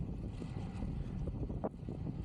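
Low, steady wind buffeting the microphone during an evening bike ride, a constant rumbling roar with no voices.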